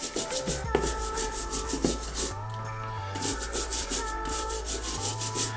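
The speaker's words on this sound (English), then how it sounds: "the Boot Bro does a great job of getting around those studs, cleaning and around everywhere" A Boot Bro cleaning tool scrubs around the studs on the soleplate of an adidas ACE16+ Primeknit boot, making repeated rhythmic rubbing strokes, close and moderately loud, with low hum underneath.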